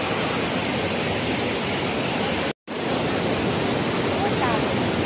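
A waterfall roars in a steady broadband rush heard from right beside the water, constant and loud for several seconds with one brief dropout midway.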